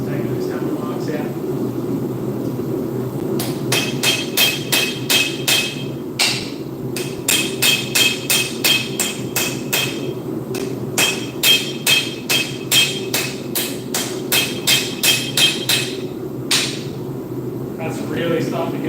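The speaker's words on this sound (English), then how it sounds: "Just taking those hammer marks out" Close, loud hammering on steel to smooth out earlier hammer marks, delivered in rhythmic bursts of quick sharp strikes separated by short pauses, over a steady low hum.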